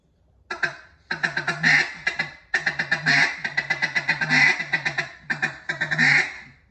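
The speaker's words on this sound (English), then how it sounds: "Another good one I like is going to be a feed chuckle with a quack." A duck call blown in a rapid feed chuckle, short bursts of fast clucking notes, each run ending in a held quack, repeated several times close and loud with brief pauses between.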